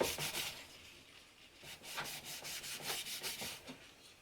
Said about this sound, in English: And now let's get some more handy towel. And just wipe this heatsink down.